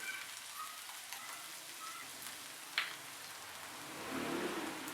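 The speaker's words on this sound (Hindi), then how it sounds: "अब इसमें ऐड करेंगे 1 टेबलस्पून कुटा लहसुन और इसको भी तकरीबन 1 मिनट के लिए फ्राई करेंगे" Crushed garlic frying with softened onions in a pan, a faint steady crackle and sizzle, one sharp tick near the middle and a swelling hiss toward the end.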